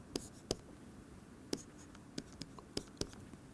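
Chalk or marker strokes on a lecture board, a handful of sharp separate taps and short scrapes spaced irregularly, fairly close and alone without talk.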